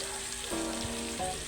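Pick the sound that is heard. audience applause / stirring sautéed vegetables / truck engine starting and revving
stirring sautéed vegetables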